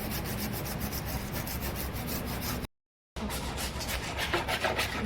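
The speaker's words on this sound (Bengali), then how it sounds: "ঘষে ঘষে ঘষে একদম অনেকক্ষণ ধরেও কষ্ট করে ওই তারের জালিটা দিয়ে অনেকক্ষণ ধরে কেরোসিন তেল এই যে করছে" A chimney is scrubbed with wire mesh soaked in kerosene, giving rapid, rhythmic, gritty rasping strokes close up, broken by a brief silence partway through.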